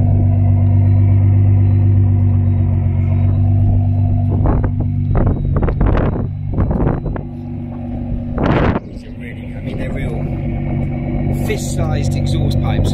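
Idling HKS-tuned Nissan GT-R rated around 800 bhp, its deep steady rumble with strong low harmonics running continuously beneath nearby talking, with brief louder bursts through the middle.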